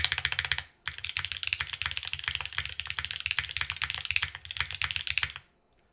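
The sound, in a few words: typing on Qi65 mechanical keyboard with Cherry switches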